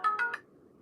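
Phone ringtone from an incoming spam call, three quick bright electronic beeps in a rising pattern, close and clear, then quiet.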